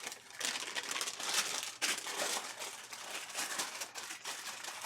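Plastic packaging crinkles and crumples continuously up close, with dense rustling bursts and no talk.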